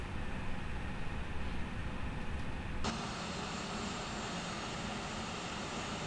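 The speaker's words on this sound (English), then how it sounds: "He's taxiing down the other taxiway." Airliner engines in an A320 flight simulator game, taxiing on a taxiway: a steady broadband jet roar that holds throughout, shifting to a slightly brighter, hissier tone partway through.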